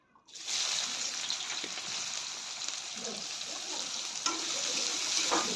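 Bay leaves hit hot oil with a sudden burst of sizzling that settles into a steady, close frying hiss, with a few faint clinks and no speech.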